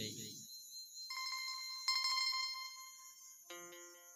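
A phone ringtone chimes faintly in short melodic bursts, with brief pauses between phrases and no speech.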